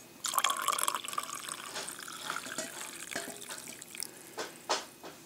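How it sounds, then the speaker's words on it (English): Water trickles and splashes as it is poured from a kettle into AeroPress coffee, a short close pour that rises, then thins to a few drips at the end. "I like to finish it off with a little water."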